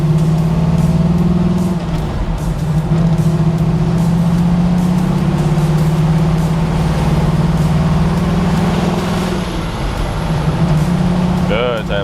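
A 1979 Camaro with a swapped-in manual transmission, engine droning loud and close as revs climb and shift through gears, with people talking and reacting over it.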